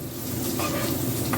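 Pancakes cook in a pan of hot, sizzling butter, giving a dense, continuous crackling hiss that stays close and fairly loud throughout.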